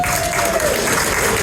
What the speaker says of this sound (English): Can we have one more big round of applause for Andy,